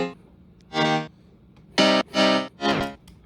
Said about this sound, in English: Then I use an FL keys dance piano,